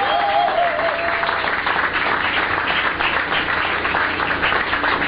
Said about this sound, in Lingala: nous avons les acclamations